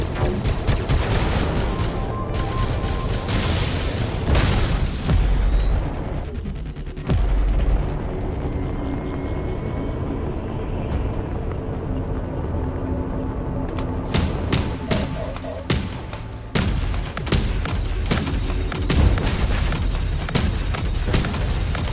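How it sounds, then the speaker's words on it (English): Ships exploding during space combat in a video game, a dense continuous barrage of booms and blasts, loud and close throughout with heavy low rumble. "Enemy ship destroyed."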